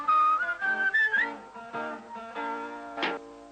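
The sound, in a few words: postman whistling as he marches with a sack of letters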